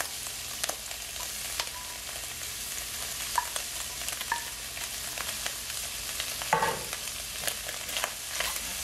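Cooked meat stir-fried into Chinese fried rice sizzles steadily in a hot pan, with scattered clinks and scrapes of stirring and one louder clatter partway through.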